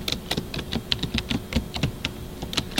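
Fingers type on a computer keyboard while entering a city name and climate data, a quick uneven run of crisp close key clicks with short pauses between bursts.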